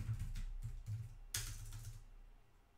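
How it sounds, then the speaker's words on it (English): Typing on a computer keyboard set off to one side of the desk: a few light, scattered key clicks with one sharper tap midway, quiet and close, with no talking. "Can't type today."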